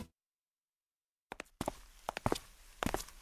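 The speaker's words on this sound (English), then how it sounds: "This is the sound of footsteps down a hallway." Footsteps echo down a hallway: after a short silence, a series of distinct, irregular heel strikes and shuffles rings out, moderately near and clear, with no voices.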